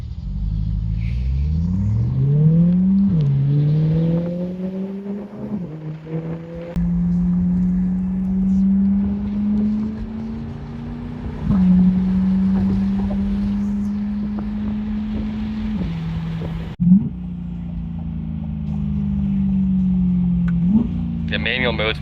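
Inside a Chevrolet C8 Corvette fitted with a Milltek exhaust, a loud engine drone rises and falls through gear changes, holding a steady cruising note with a sharp pop near the end, while occupants talk over it.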